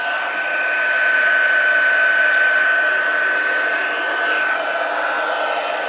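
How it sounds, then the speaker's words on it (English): A heat gun blows a steady, loud whir of air while it heat embosses the centers of a handmade card, running without a break and with no speech over it. "And I'm going to heat emboss the centers there."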